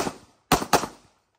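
Two sharp handgun shots fired in quick succession during a combat handgun shooting drill, loud and close, each followed by a short echoing decay, with a faint bit of sound just before them.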